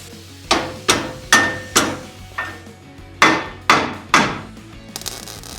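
A hammer strikes a truck in eight sharp, ringing metallic blows, each one close and loud with a brief decaying ring, in an uneven rhythm with a short pause midway.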